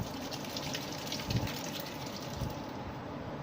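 Boiled chickpeas are tipped into a pot of cooking water for Lahori murgh cholay, giving a steady, close liquid gush that runs continuously for several seconds with no talking.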